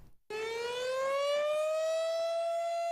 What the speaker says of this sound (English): Lucas County has 119 sirens, like this one.